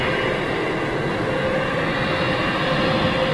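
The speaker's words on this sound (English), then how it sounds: "That TUI 787." A TUI Boeing 787 Dreamliner departing from Manchester Airport gives a loud, steady jet roar that holds constant throughout, with no voices.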